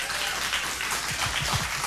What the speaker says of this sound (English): A round of applause for Dianna.